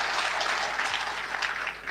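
A brief burst of audience applause from a played-back speech recording, a dense, hissy clapping texture lasting under two seconds.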